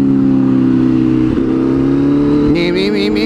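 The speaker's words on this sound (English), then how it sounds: "That was a good wheelie though, wasn't it?" Motorcycle engine held at a steady high drone during a wheelie, then rising in pitch with a brief throttle change and a whirring top end near the end; close and loud throughout.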